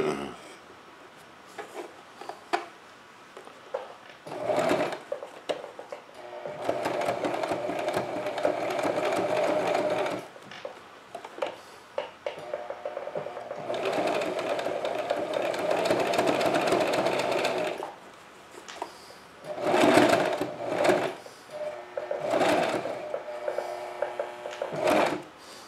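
Sewing machine stitching in bursts, with several runs of steady, rapid mechanical whirring separated by pauses and small clicks of handling, moderately near and heard alone.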